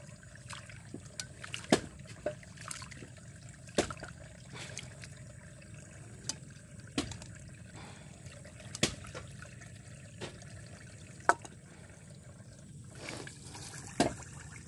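Water trickling steadily on a farm, a soft continuous stream broken by irregular small drips and splashes, close and fairly quiet.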